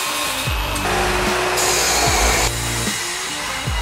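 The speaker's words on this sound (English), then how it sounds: "this tubing is going to become the chassis, so we're going to cut a couple 3-foot pieces" A power saw cuts metal tubing into pieces for a sidecar chassis, a loud, close, continuous motor whine that shifts pitch as the blade bites, with a few sharp changes in tone.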